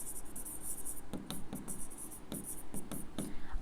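Pen scratching on paper while an accounting entry is written by hand, a steady continuous scratch with short stroke accents, close and clear over a faint background hum.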